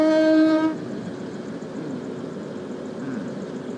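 A train whistle sounds in the Stepford County Railway video game, a loud harmonic blast lasting under a second that cuts off into a steady low rumble of the train running.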